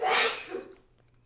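A single sharp sneeze bursts out close and fairly loud, then trails off quickly into quiet breathing.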